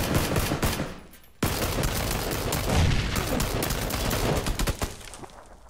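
A grenade blast in PUBG goes off sharply partway through, surrounded by a dense, continuous clatter of gunfire and rumble that slowly fades at the end.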